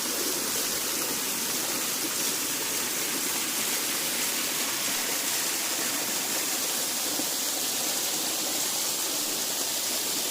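Waterfall of Tobi near Lake Como in Italy, a steady broadband roar of falling water that stays loud and constant throughout with no voices over it.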